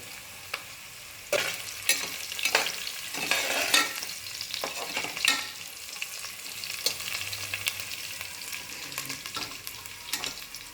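Bay leaf, black pepper, cinnamon, cloves and cardamom sizzle in hot oil with a lively crackling hiss. Sharp spattering pops and stirring clatter stand out over steady frying, and no one speaks.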